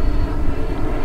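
A giant RC Airbus A350 XWB model plane climbing on its maiden flight, giving a brief, steady, loud engine roar with no voices.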